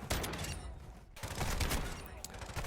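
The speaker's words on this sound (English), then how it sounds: "no problem with this shotgun" Shotgun blasts in Call of Duty DMZ, loud and close, with a dense burst at the start, a brief lull and then more firing, all over busy game sounds.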